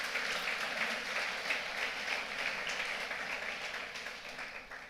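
A church congregation applauds Jesus with a full, sustained round of clapping that begins loud and gradually tapers off toward the end.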